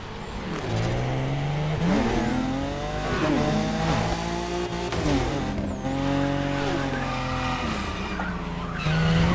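Tires squeal and skid continuously as a heavy car drifts in the racing video game The Crew Motorfest, with an engine revving loudly and steadily underneath the long, wavering screech.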